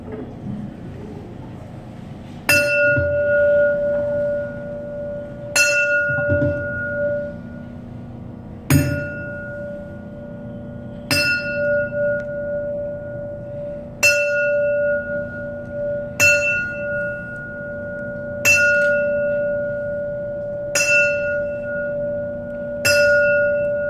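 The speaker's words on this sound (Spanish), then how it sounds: "Vamos a rendir tributo a la memoria de Arnulfo Bando con 10 campanadas en memoria a su nombre." Ten solemn bell tolls at a boxing awards ceremony honoring a late Nicaraguan boxer, struck at a slow, even pace about every three seconds, each ringing out over a steady low hum and faint murmur.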